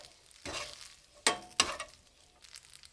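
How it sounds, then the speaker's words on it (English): Pasta tossed in sizzling oil with garlic in a pan, three quiet bursts of crackling sizzle as the noodles are stirred and flipped, with near silence in between. "Just want to coat my pasta in the oil and get some of that garlic mixed in."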